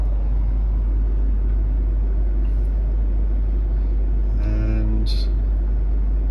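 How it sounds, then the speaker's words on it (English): The air suspension compressor on a Range Rover L322 with a suspension fault hums as it slowly raises the vehicle, a steady low drone with a brief voice over it. "I can hear the compressor, but it is going up slowly."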